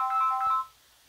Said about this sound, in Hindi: अरे रिद्धि के ट्यूशन से फोन